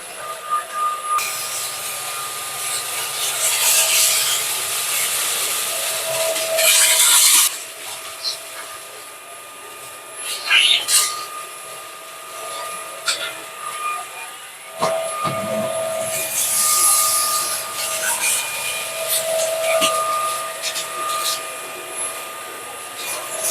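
An Erabros EV1 cordless vacuum cleaner with a rotating head sucks up semolina, rice and pasta, giving a steady close whir with rattling, gritty bursts as debris is pulled in.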